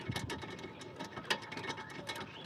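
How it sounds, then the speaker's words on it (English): A wrench ratchets out the last bolt on a 2009 Honda Accord axle, a quiet run of quick metallic clicks and taps close by, with no one speaking. "Let's take this last bolt, and she's gonna fall right off."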